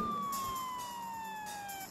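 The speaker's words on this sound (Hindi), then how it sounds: "मेरे इस दूसरे फोन में बज रहा था पुलिस का सायरन" A police siren played from a phone gives a single wailing tone that slides steadily downward, fairly faint and thin, and cuts off at the end.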